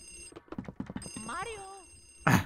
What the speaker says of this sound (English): the ringing phone.